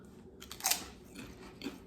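BBQ-flavoured potato chips crunched between the teeth, with one loud crisp bite near the start followed by a couple of softer chewing crunches, close and alone.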